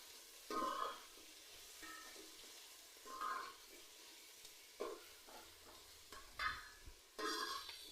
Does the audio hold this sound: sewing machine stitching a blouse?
no